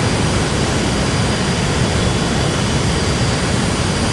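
Airliner jet engines roaring at takeoff thrust in Real Flight Simulator, a steady, loud, dense broadband roar with a faint high whine, constant throughout and with no voices.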